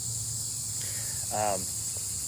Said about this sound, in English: These cicadas were beating me up.